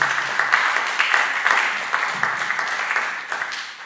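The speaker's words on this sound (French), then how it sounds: "Est-ce qu'on peut acclamer?" Audience clapping steadily at a memorial service, a dense patter of many hands that holds fairly even and fades slightly toward the end, with no voices over it.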